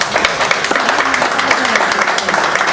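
Audience applause at an exhibition event held at the Albanian Embassy in Athens: steady, dense clapping from a crowd filling the whole stretch, close and fairly loud.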